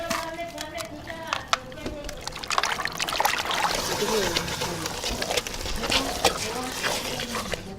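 Water is poured over raw chicken being washed during Ethiopian cooking, a steady trickling and splashing that runs throughout at moderate, close range.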